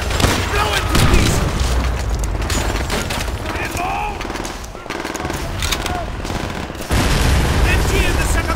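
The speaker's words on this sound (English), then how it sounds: "Exploding the fuel tank will incinerate." A fuel tank blows apart amid sustained gunfire in the World War II shooter Call of Duty: World at War, with dense booms and machine-gun bursts throughout and a fresh loud blast near the end, battle shouts faintly mixed in.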